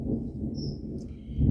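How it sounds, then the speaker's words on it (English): Low thunder rolls on through a summer storm, a steady deep distant rumble with faint insect or bird chirps above it and no voices. "That's the thunder."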